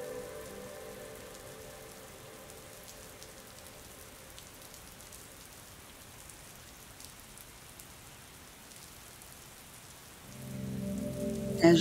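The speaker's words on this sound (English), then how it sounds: "As the rain falls down around your body in a shower of protection." Steady rain patters on surfaces in a soft, continuous wash, growing a bit heavier and louder near the end.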